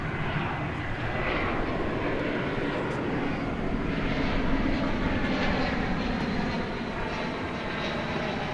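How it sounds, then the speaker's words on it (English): American Airlines Airbus A321 arriving at DFW at night from Los Angeles, a steady, moderately loud jet engine rumble and whine holding through the whole stretch without talking. "Here comes an American Airlines Airbus A321 arriving from Los Angeles."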